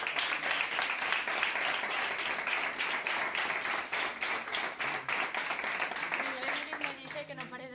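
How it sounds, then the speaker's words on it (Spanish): A group claps hands in a quick, dense run of sharp repeated claps, close and fairly steady, with a voice briefly audible near the end. "Mi gremlin me dice que no paremos de aplaudir."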